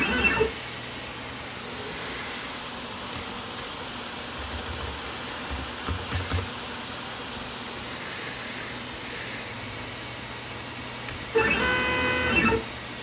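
iDraw 2D pen plotter carriage stepping in 1-inch moves, short mechanical whirring bursts at the start, middle and end over a quiet room hum, with light clicks between.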